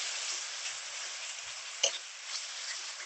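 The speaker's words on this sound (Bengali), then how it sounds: "সমস্ত মশলাটা মিশিয়ে নেব।" Fish curry with spices and kasundi mustard sauce frying gently in a pan, a soft steady sizzle with one brief utensil tap, faint and close, no voices.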